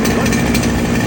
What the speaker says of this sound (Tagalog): TD40 2-stroke grass cutter guys ha